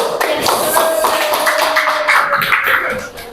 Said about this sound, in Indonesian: Tepuk tangan yang meriah kalau betul